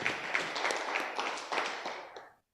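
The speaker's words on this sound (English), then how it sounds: "hand clap" A group hand clap at a student entrepreneurship bootcamp session, a short burst of scattered clapping from several people that fades out after about two seconds.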